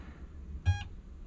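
A single short, high electronic beep from a Power-Pole boat anchor remote pairing sounds once against a quiet background hum.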